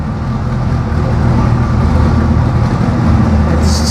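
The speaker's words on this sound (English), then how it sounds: "It's such a deep grumble." A deep, steady engine grumble from a car parked in a showroom space under hex lighting, rumbling continuously and fairly loud at close range with no voices over it.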